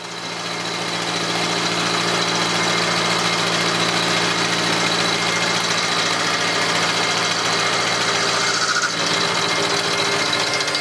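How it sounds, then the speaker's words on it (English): A milling machine runs in a workshop while being set up for a cut. It gives a steady, loud mechanical drone with constant tonal hum throughout and no talking. "So I'm just setting up on the milling machine."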